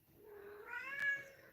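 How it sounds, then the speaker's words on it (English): A house cat gives a single drawn-out meow, fairly faint and rising then falling, alone in a quiet room. "That's the cat, not a spirit."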